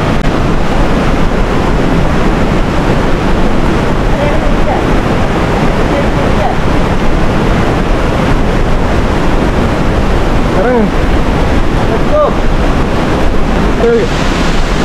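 Heavy roar of rushing water fills the scene at Aberdeen waterfall in Sri Lanka, a loud, constant broadband wash with wind buffeting the microphone throughout and faint voices briefly surfacing near the end.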